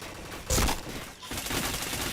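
Gunfire in a mobile shooter game, a loud sharp burst near the start and then a steady patter of rapid shots to the end, with no talking.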